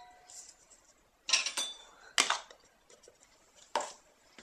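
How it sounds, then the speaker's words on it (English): Butter, sugar and maple syrup going into a pan for gingerbread biscuits, heard as a few close, sharp kitchen clinks and knocks of utensils and cookware against the pan, separated by quiet gaps. "put the butter, the sugar, and the maple syrup into a pan"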